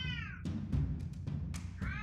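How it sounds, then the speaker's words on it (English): A house cat meows several times in the background of an indoor room, thin drawn-out cries at the start and end separated by scattered clicks and knocks over a low steady hum. "you probably hear my cat in the background."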